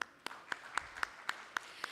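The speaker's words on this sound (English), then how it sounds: "Can we have a round of applause?" Audience at a green metal industry conference claps for an environmental pledge, with sparse, evenly spaced sharp claps about four per second, sounding like a few hands in a large quiet hall.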